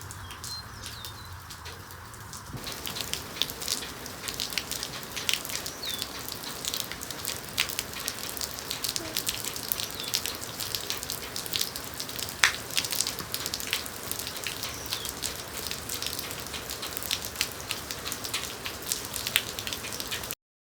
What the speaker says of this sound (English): It would not stop raining. It's still sprinkling now